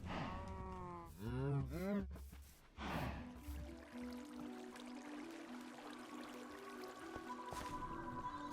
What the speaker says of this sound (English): Can hear the cows.